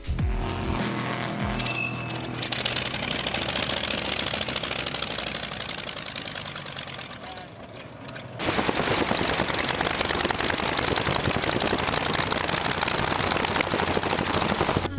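A Kinner R55 radial aircraft engine fitted in a Toyota MR2, loud rapid staccato popping and clattering like machine-gun fire, idling raggedly at first then settling into a harsher, steadier roar.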